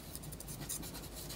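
A short, quiet stretch of a pen scratching on a paper card while writing, close-up, soft and continuous with no voices.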